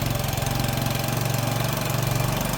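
A Piaggio 125cc scooter engine with a freshly rebuilt top end and valve work idles steadily up close, a loud, even, rapid mechanical chug with a slight ticking running throughout and no talking.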